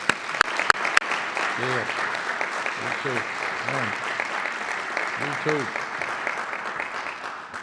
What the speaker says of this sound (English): An applause for our Color Guard, please.